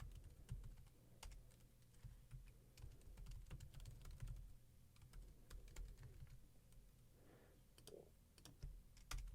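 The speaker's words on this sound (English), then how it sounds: "I'm just going to type this code out real quick" Code being typed on a computer keyboard, rapid irregular key clicks in quiet, soft bursts with brief pauses.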